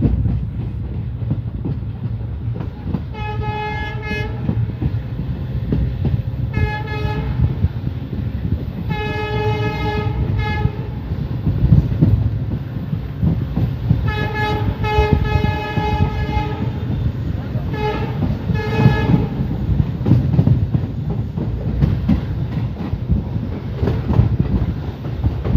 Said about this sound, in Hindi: हैं इस ट्रेन का स्पीड एक्शन